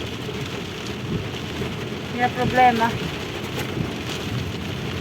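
Steady rain pours at night in Jeddah, with a rumble of thunder swelling midway; a voice speaks briefly over the downpour.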